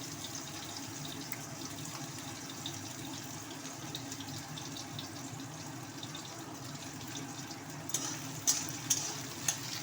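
A quiet, steady sizzle of chopped onion and garlic frying in oil for a cabbage and egg curry, close by, with a few sharper crackles toward the end.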